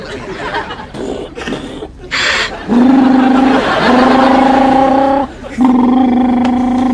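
A man imitates with his mouth a car engine that won't start, a sputtering, rising and falling vocal whine and cough that stops and restarts, close and loud, with a bit of laughter at the start.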